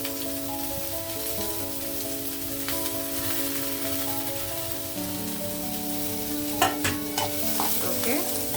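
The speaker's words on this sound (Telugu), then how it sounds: "ఆనియన్స్ యాడ్ చేస్తున్నాను." Onions frying in oil for a tomato curry with curry leaves, a steady crackling sizzle under a background music bed, with a few sharper stirring clicks near the end.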